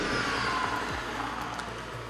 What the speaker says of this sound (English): you have the pure and direct pulsations by the engine near to the ear